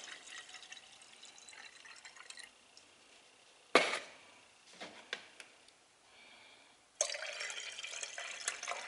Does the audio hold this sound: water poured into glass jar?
yes